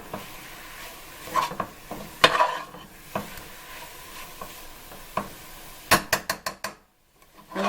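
Ground meat browning in a dry pan with no grease, soft sizzling under repeated scrapes and clacks of a utensil stirring, a quick burst of scraping near the end before a short pause.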